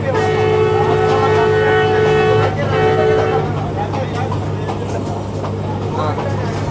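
A Pakistani local train from Lahore to Shorkot rumbles along with a loud low drone and a sustained horn tone early on, while someone talks over the noise.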